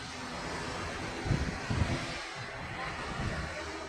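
An airplane at Lanzarote airport, heard as a loud, broad steady engine roar mixed with wind buffeting the microphone, with no talk.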